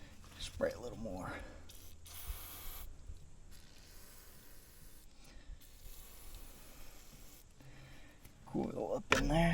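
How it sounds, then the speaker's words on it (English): Short bursts of aerosol lubricant spray hiss between stretches of quiet mechanical fiddling on an old heavy-duty equipment trailer, with a louder burst of clatter near the end. "Spray a little more."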